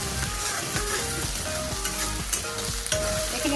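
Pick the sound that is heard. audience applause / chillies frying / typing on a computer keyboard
chillies frying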